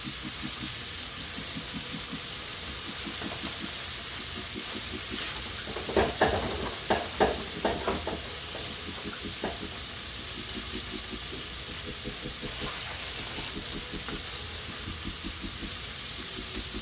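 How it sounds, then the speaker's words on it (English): Chicken wings frying in oil give a continuous close sizzle and hiss, with a cluster of sharper crackles and spits partway through before settling back to a steady bubbling fry, no voices. "I'm gonna let that fry some and tack up"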